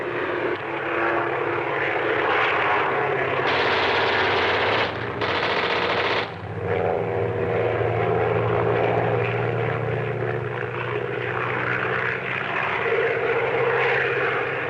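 A propeller airplane drones loudly in flight, its engine roaring steadily and close throughout, with a brief dip and bursts of rattling, gunfire-like noise layered in.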